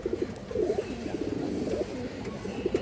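Pigeons coo repeatedly in a loft, soft low burbling calls rolling one after another at moderate loudness, with no talk.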